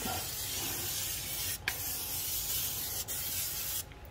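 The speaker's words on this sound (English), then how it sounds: "I spray some inside the chute, the snow chute" Steady, continuous hiss of an aerosol spray being sprayed inside a snowblower's snow chute for several seconds, close by, with a few brief interruptions and no talking.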